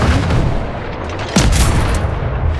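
A tank-like vehicle from a Minecraft mod fires armour-piercing shells: a booming blast with a sharp onset lands midway through a loud, rumbling game soundscape, followed by sustained rumble.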